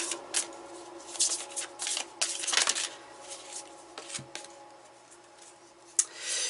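Oracle cards being shuffled by hand close up, a run of soft riffling, rubbing and slapping bursts with short pauses between them and no talking.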